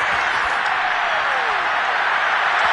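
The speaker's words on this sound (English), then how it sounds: "How about some applause for the defense there?" Stadium crowd at an NFL game against the Vikings applauds the defense after an incomplete pass, a steady broad wash of clapping and cheering throughout, loud and continuous.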